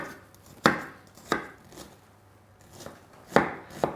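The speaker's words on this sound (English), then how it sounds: "we're going to finely slice the onion" A knife finely slices an onion on a chopping board, giving five sharp, separate cuts at an uneven pace, close and distinct over a quiet kitchen background.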